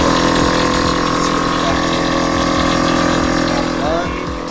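On a Nissan 350Z resting on jack stands, the air suspension compressor runs loud and close as it fills the air tanks, a steady dense mechanical hum that eases off slightly near the end.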